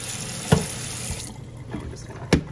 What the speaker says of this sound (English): So we're just gonna give these a light little rinse.